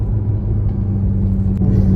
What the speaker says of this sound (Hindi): हमारा नया ड्राइवर गाड़ी चला रहा है